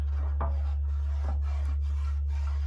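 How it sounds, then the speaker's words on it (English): A utensil scrapes a cooking pan to lift the browned bits, a few short rasping strokes spaced apart over a constant low electrical hum. "just scrape the pan and just get some of that flavour"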